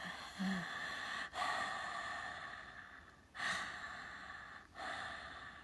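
A voice imitates heavy breathing: a few long, rasping breaths in and out, close and fairly quiet, with brief pauses between them.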